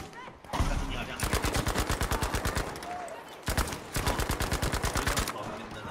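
MP40 submachine gun firing in the video game Battlefield V: two long bursts of rapid, evenly spaced shots, loud and close, separated by a short pause.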